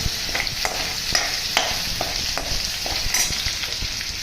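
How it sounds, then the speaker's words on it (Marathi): Garlic, green chili and mint paste frying in hot oil for a dill-greens dish, with a steady close sizzle and regular clicking stirs of a spoon against the pan, no voices. "तेल आहे, लसूण मिरची आणि पुदिन्याची पेस्ट टाकलेली आहे। थोडंसं ते लालसर होऊ द्या।"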